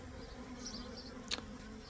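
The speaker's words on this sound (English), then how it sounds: "So I waited until most of the bees were swarmed on a tree" A swarm of honey bees clustered on a tree, a faint, steady buzzing hum heard up close, with one bee passing briefly louder near the microphone.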